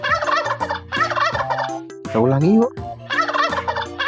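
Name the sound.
turkey gobbling in a farm animal cartoon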